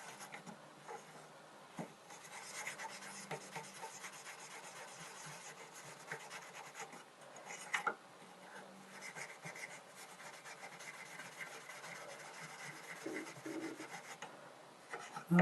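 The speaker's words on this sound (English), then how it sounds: "I'm going to get some wire wool, and this is my coarse bit of wire wool, and just do a nice textured pattern" Coarse wire wool rubbed over a silver pendant to texture it, a faint, close, continuous scratchy scrubbing with irregular strokes for about fifteen seconds, no voices.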